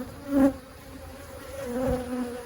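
Honeybees buzz steadily in an open hive during an inspection, a close, droning hum with two louder swells as bees pass near.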